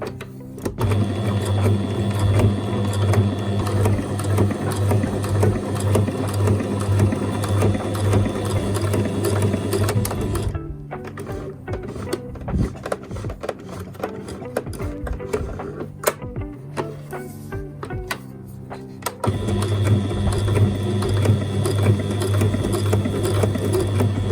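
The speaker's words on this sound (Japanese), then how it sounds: "はい、では紐を縫っていきます。" A sewing machine stitching strings for an adult cafe apron runs in a loud, steady whir close by, stops for several seconds partway through with faint handling sounds, then resumes running continuously.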